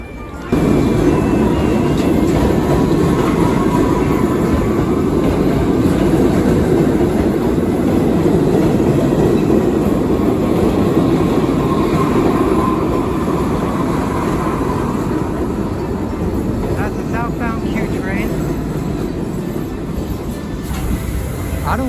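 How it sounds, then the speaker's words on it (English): Ride aboard a New York 2nd Avenue subway train: steady loud rumble and rattle of the car throughout, with faint squeals late on, alone with no talk. "On to the world's famous 2nd Avenue subway."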